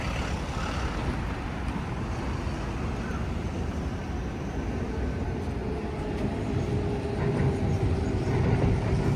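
A continuous low rumble and rolling rattle of a train passing at a distance in Tokyo, between Asakusa and the Skytree, steady throughout with no clear breaks.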